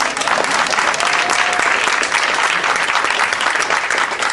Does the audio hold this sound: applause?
yes